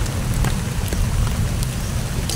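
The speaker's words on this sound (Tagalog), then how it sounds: "Kasi umuulan pa." Steady rain falls outdoors under trees, making a dense, even hiss with a low rumble and scattered nearby drops for the full stretch, with no one talking.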